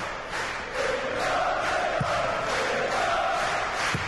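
A noisy crowd at a darts match in the European Darts Trophy, heard from a balcony above the audience, keeps up a constant loud roar of voices, chanting and shouting, with a couple of sharp knocks standing out.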